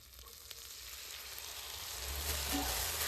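Masala paste with turmeric frying in a pan for a bamboo shoot curry, a steady hiss of sizzling that swells louder toward the end, with faint stirring and no talk.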